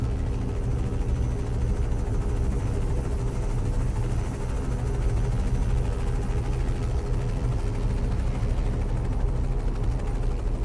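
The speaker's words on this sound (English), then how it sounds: "Sounds like the helicopter is in the tunnel with us." A steady, heavy helicopter rotor drone in a tunnel in Euro Truck Simulator 2 fills the space, loud and constant, echoing as if in an enclosed space.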